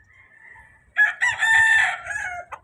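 Roosters at a cockfighting arena in Manila crow loudly and close by, one long crow following a fainter earlier call, over low background murmur.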